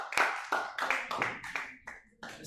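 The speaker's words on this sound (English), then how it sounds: "Please, can we humbly give our amazing facilitator a round of applause as he comes forward?" Scattered hand claps from a small audience at an entrepreneurs' event in Ilorin, Kwara State, welcoming a facilitator forward, about half a dozen distinct sharp claps spaced unevenly, close and moderately loud.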